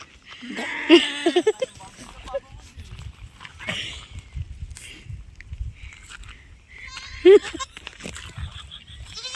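A goat bleats loudly twice, a wavering cry near the start and another near the end, with rustling and footsteps between.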